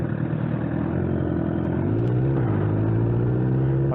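A 2009 Honda CBR1000RR Fireblade sport bike engine drones loudly and steadily close by, its pitch climbing partway through as the revs rise.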